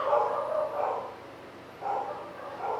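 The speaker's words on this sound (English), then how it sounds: "ruined by the dogs barking" Dogs barking in short bursts, with a couple of louder barks at the start and more breaking out again later, heard nearby over a quiet indoor background.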